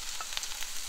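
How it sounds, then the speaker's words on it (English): Beef sizzles in a frying pan as its liquid cooks off, a close, steady crackling hiss with small pops and a few brief stirring scrapes, no voice present. "you can hear the sizzling of that other pan"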